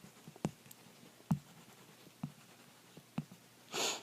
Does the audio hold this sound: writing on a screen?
yes